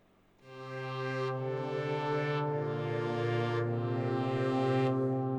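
A Logic ES2 software synthesizer holds a brassy, string-like pad, sustained chords swelling in with a bright, buzzy tone that shifts timbre in slow waves, played alone.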